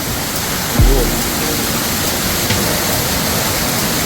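Amboli waterfalls pour down in a loud, dense, unbroken roar of rushing water that fills the whole stretch, with a brief low thump early on.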